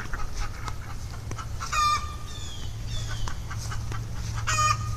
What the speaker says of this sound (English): you can hear those hens impatiently waiting for their turn on a nest